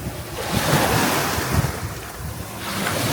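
Ocean waves surge and splash against rocks inside a sea cave, a continuous roaring wash of water with gusty wind noise buffeting the microphone, swelling and easing without voices.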